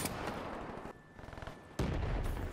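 Gunfire in a video game, with bursts of sharp shots at the start and a loud volley near the end, separated by a quieter rattling stretch.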